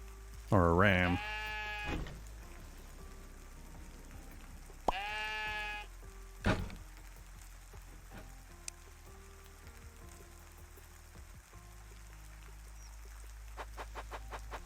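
Sheep in the video game Necesse bleat in two loud wavering calls near the start, with clucking fowl and soft game clicks and blips following over a low hum.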